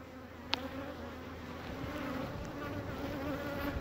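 Honey bees at a hive building comb, a dense steady buzzing swarm close by, with one brief sharp click near the start and no voices.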